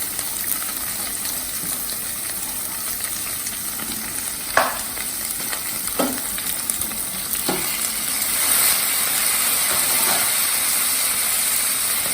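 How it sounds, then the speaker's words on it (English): Khichdi frying in a pan as peas go in, a steady sizzle and hiss with a few short stirring clatters and scrapes, close and moderately loud throughout. "Then put your peas."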